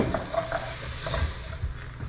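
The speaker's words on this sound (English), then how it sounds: "To the onions and bacon, I'm gonna do a good shot of apple cider vinegar." Onions and bacon sizzle in a pan on a wood cookstove after a splash of apple cider vinegar, a close, steady frying hiss with light stirring scrapes and no talking.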